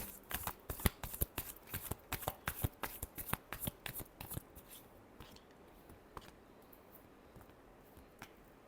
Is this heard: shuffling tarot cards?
yes